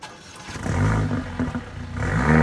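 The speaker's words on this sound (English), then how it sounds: "let's listen to the exhaust notes for a bit." Exhaust of a 2017 Mercedes-AMG A45 hot hatch, a 376-horsepower car: a short, close, throaty rev that rises and falls, then swells again near the end.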